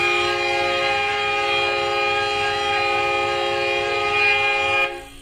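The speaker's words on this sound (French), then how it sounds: "Il avait un klaxon de train" A loud, sustained train horn blares with steady multi-tone harmonics and no talk, cutting off abruptly just before the end.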